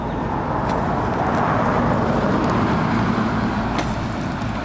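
A car passes along a street, a steady broadband road rumble holding at a constant level throughout, with no distinct approach or fade, and no talking.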